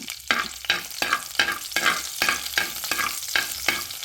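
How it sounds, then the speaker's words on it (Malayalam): Fish curry of pearl spot with curry leaves is stirred in a pan, regular scraping strokes about twice a second over a continuous sizzle, close and loud with no voices. "ആ കറിവേപ്പില ഇട്ട് കൊടുത്ത് നന്നായിട്ടൊന്ന് കറി വെച്ച് ഒന്ന് ഇളക്കി കൊടുക്കുക"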